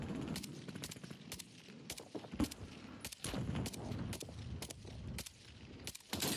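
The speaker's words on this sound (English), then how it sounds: "There is a lot of shooting going on" Gunfire in the Warzone video game cracks out in sharp, regularly spaced shots with a few quick clusters, moderately close and fairly quiet overall, with no talking.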